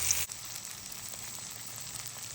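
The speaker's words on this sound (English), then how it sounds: "You want that nice sizzle when you put it in the pan." Steak sizzling in a hot pan: a steady, bright hiss of frying fat runs close and loud throughout, with a brief dip near the start, and no voices.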